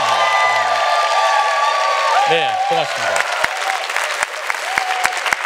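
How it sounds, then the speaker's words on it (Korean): Audience applause and cheering at a lecture by a tenor, filling the whole stretch, with someone speaking over it near the start and again in the middle. "박수 한번 치셔야 돼요."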